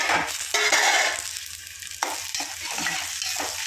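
Green chilies and onions frying in a pan, with a steady broadband sizzle and occasional scraping stirs, loud at first, then settling into a quieter, continuous frying hiss with no talking.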